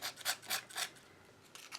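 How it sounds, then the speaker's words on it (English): Coarse sandpaper rubs against a wooden birdhouse coated in Mod Podge, four close, rasping back-and-forth strokes followed by a pause and two lighter scrapes. "this is a very harsh sandpaper"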